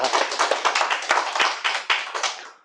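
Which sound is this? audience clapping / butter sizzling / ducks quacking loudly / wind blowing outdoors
audience clapping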